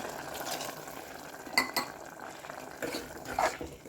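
A spoon scrapes and clinks against the inside of a pot of rice and water in a few quiet, close stirring strokes.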